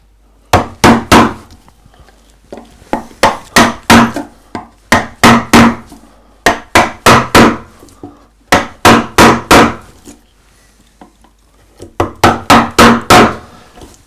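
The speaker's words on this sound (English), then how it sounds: "This is a wonderful, probably 2-inch, 50mm, very flat gouge. And this is really great for coming round and finishing off into there." A mallet drives a flat 50mm gouge into wood while carving the cuffs of a hanging shirt, giving loud, sharp knocks in quick groups of three to five with short pauses between groups, close and alone.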